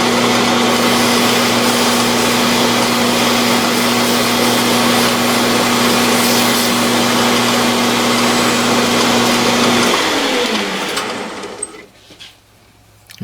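A machine sanding with fine 400 grit abrasive, a loud steady high whirring hum that winds down and stops near the end.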